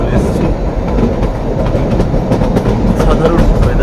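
The Kalka–Shimla toy train rolls along its Himalayan narrow-gauge track near Summer Hill station, giving a loud, continuous rumble with rhythmic wheel clatter and occasional metallic clanks throughout.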